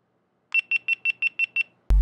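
A GoPro camera on a river fly-fishing trip beeps as its battery dies, with seven evenly spaced, high electronic beeps followed by a sharp click.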